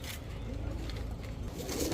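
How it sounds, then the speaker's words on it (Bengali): A pair of Chuithal Bagha pigeons, male and female, coo in low, soft, throaty murmurs close by, the sound continuous over a brief moment. "এখন দেখাবো এক জোড়া চুইঠাল বাঘা কবুতর।"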